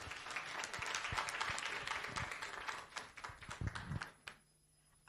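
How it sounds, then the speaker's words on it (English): Audience at a leadership breakfast claps in a dense, steady round of applause that stays loud for about four seconds and then quickly dies away. "Please give her a big round of applause."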